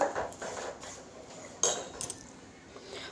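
A metal spoon stirs cumin tempering into peanut kadhi in a pot, giving soft scraping and a few light clinks against the vessel, close and fairly quiet, with one sharper knock midway.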